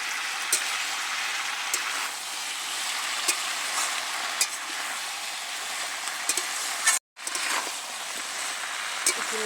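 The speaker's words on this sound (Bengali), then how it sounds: "একটু নেড়ে চেড়ে বেশ ভালো করে মিশিয়ে নিয়েছি।" Malabar spinach and a katla fish head being stirred in a pan, a constant close hiss of frying broken by occasional scrapes and clinks of the spatula, with one brief dropout of sound.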